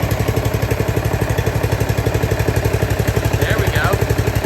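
A Briggs & Stratton engine on a Husqvarna RZ4621 riding mower runs close up with a loud, fast, even thumping throb throughout.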